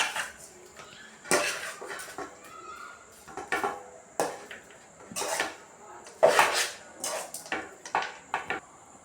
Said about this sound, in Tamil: இப்போ இது அடுப்பில் இருந்து இறக்கி நம்ம நல்லா கிளறி விட்டுக்கலாம்.